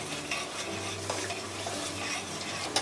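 Spices sautéing in a pan for a tomato and rui-style fish curry, stirred steadily with a soft continuous sizzle and light scraping of a utensil against the pan, with a sharper clink near the end.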